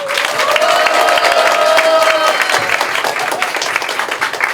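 A crowd at an election office opening ceremony applauds warmly, a dense, loud patter of clapping with some cheering, while a voice carries over it near the start.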